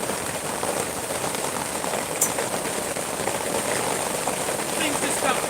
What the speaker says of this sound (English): Deal with the hail.